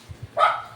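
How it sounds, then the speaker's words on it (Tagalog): A dog barks outside through an open door, one sharp loud bark ringing after two soft low thumps, with no talking. "Ang ingay ng aso sa kapaligiran."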